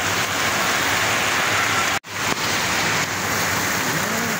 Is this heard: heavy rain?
yes